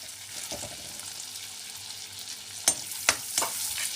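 Steady sizzle of ingredients frying in a pan, heard alone with a soft continuous hiss and a few sharp clinks of a spoon or spatula near the end.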